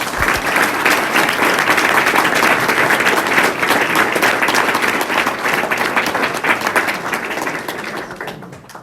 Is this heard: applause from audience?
yes